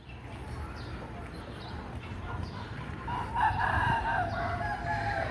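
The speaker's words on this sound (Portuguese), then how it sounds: "Galos, galinhas." Roosters crow at a busy outdoor small-animal market in Teresina, Piauí, Brazil, with chickens clucking around them, and people talk faintly in the background.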